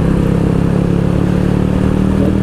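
A motorcycle engine, a low-mileage bike bought in 2021, running steadily with a loud, close mechanical drone and rapid pulsing, recorded on the move during a ride without talk.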